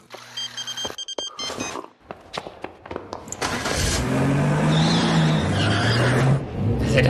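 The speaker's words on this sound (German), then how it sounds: "Dass er da so rausdriftet." A car drifts and skids in a German road-safety announcement: scattered electronic beeps and clicks give way to a loud, sustained tire squeal and engine roar that wavers in pitch for several seconds before easing off.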